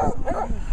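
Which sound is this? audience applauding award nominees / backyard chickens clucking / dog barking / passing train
dog barking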